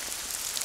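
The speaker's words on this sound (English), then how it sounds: "what I like about this is just the fact that it is raining" Heavy rain falls steadily through woodland, a dense, even hiss of drops on leaves and ground with no breaks, close and enveloping throughout.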